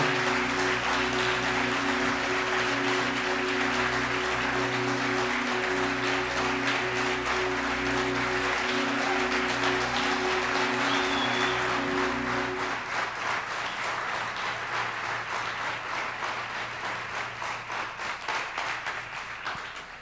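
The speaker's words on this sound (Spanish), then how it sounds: "Déles un aplauso a estos valientes que pasaron." A church congregation applauds at a Sunday service: loud, dense clapping holds steady, then thins and tapers off over the final seconds.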